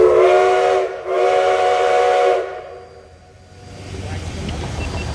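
A train whistle blows twice in long, loud steam-style blasts as the train departs, followed by quieter rolling rumble.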